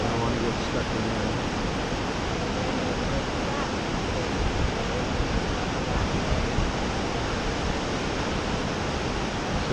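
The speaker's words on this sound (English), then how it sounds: "the waves splashing up against it" Rushing water of the Lava Falls rapid churns and splashes continuously against rocks, a loud, steady broadband roar close to the microphone with no pauses.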